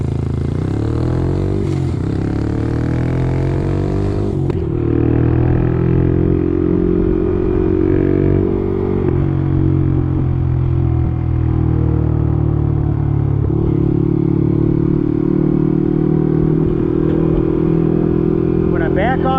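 Honda CT motorcycle engine idling with a tightened clutch, a steady close chugging hum with a few throttle blips and shifts in pitch, someone talking over it.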